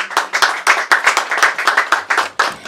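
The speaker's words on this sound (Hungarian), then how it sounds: "Nagy tapsot kérnék szépen Juditnak." An audience at a Hungarian rural salon talk event claps, loud, close and distinct individual hand claps in a quick, uneven pattern with no voices over them.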